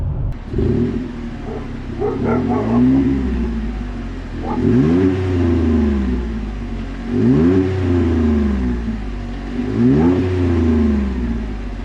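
Chevy Colorado with a cold air intake fitted, its engine revved hard several times at close range, each rise and fall of pitch separated by short idle gaps, loud and with no voices.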